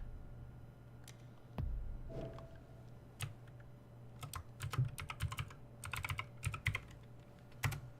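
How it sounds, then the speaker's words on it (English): Fingers tap keys on a computer keyboard in irregular bursts of quick, crisp clicks, close and fairly quiet, with a low steady hum beneath and no talking. "Oh, okay, I can use the keyboard."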